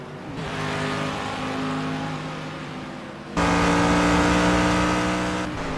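A TNGT3C round 7 race car roars along the track, its engine holding a steady drone before jumping louder as the revs climb, then cutting back near the end; loud and close, with no voices.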